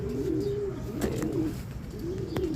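Racing pigeons coo in soft repeated rolling calls, several close phrases in a row, with a short spoken word near the start.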